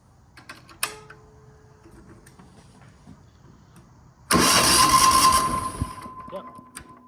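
Brand new Chinese diesel generator cranks and starts after its fuel is bled, a loud broadband roar that catches suddenly and settles into a steady running hum, preceded by quieter clicks and a brief tone.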